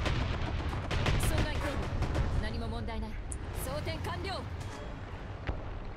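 Gunfire in War Thunder, sharp shots and rumbling cannon fire in a tank battle, fairly distant and mixed under a player talking.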